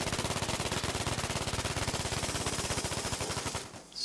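A JU-88 C bomber's 75mm cannon fires in Battlefield 5, a rapid, loud, unbroken stream of shots lasting nearly four seconds before it cuts off.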